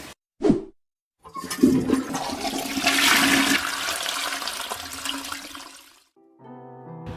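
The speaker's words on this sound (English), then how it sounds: "I normally put this and dump it to the toilet" A household toilet flushes after turtle tank water is dumped into it: a sharp splash, then a loud rushing swirl of water that fades over several seconds, followed by the quieter trickle of the tank refilling.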